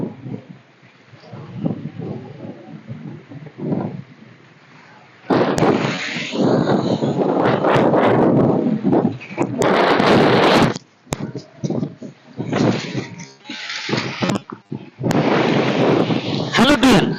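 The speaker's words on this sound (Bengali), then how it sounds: "অনেক বাতাস।" Strong wind blasts across a river island at Hatiya, heavy buffeting roar hitting the microphone in loud surges and brief lulls, with someone talking at moments.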